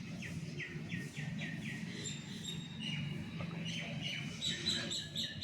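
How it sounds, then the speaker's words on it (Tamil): Birds chirp outdoors in the morning near coconut trees, with repeated quick tweets and calls from several birds, including squirrels and parrots, moderately far off over a steady outdoor background with no talking. "ஏதோ பறவைகள் சத்தம்லாம் கேட்குது."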